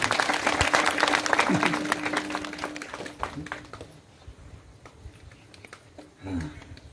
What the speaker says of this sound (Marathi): जोरात टाळ्या वाजवा तुमच्या